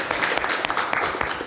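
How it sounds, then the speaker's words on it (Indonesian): Classroom applause from students in a university lecture, a dense patter of many hands clapping steadily for the whole moment, fairly close and moderately loud with no talk over it. "Tepuk tangan dulu"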